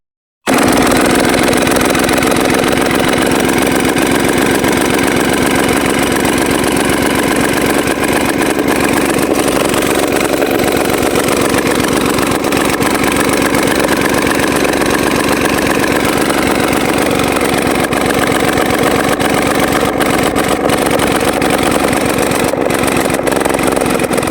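Farm engine restarted and running at idle in the fields, a steady loud mechanical drone with an even pulsing rhythm lasting throughout, nearby and alone without talk.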